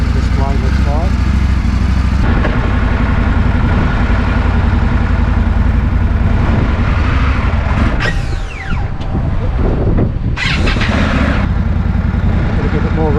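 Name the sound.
Indian Scout Classic motorcycle engine running after start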